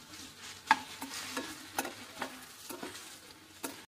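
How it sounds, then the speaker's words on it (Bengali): Potatoes, slit green chilies and chopped tomato frying together in a pan with onion, a soft continuous sizzle broken by repeated scraping stirs, close and fairly quiet, with no talking. "তারপর সমস্ত একসাথে ভালো করে আমি ভাজবো"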